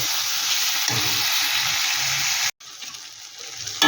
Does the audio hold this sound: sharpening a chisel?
no